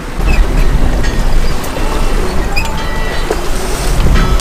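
Small boat wake waves slap and wash against the hull of a sailboat lying at anchor off Nova Scotia, a steady churning water noise with wind buffeting the microphone throughout.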